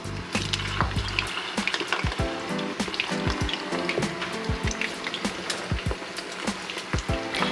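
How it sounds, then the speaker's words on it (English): Plantain slices dropped into hot oil and frying, crackling and popping in irregular bursts with occasional thumps and clatter of the pan, no talking. "start putting in my plantains. As you can see, the oil is hot. You can hear it."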